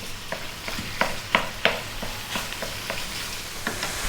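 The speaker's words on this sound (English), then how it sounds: "We're gonna drop in our ground meat of choice, and we're gonna go on a medium heat for 5 minutes." Ground meat frying in sunflower oil over medium heat for an Asian ground beef and cabbage dish, a steady close sizzle broken by several sharp scraping stirs and pops, no voices.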